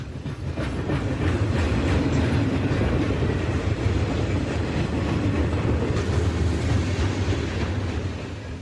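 A heavy Conrail freight train of about 6,644 tons on the Pittsburgh Line passes, with helper locomotives at both the head end and the rear, a loud continuous rumble with rhythmic clickety-clack of wheels that fades slightly at the end.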